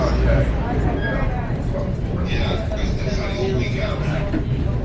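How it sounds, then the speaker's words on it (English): Commuter train bound for Grand Central running near Mount Vernon East, a steady close rumble and rattle of the rail car with a voice talking over it throughout. "This is the train to Grand Central."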